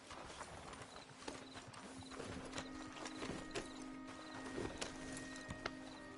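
Horse hooves clip-clop steadily in Red Dead Redemption 2, a continuous rhythmic trot with mid-range thuds and faint tack jingles, fairly quiet overall and free of speech.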